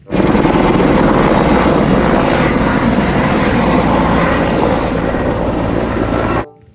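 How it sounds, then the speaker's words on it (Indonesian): A toy helicopter makes a loud, steady whirring drone with a high whine on top that runs continuously for several seconds, then cuts off abruptly. "Helikopter."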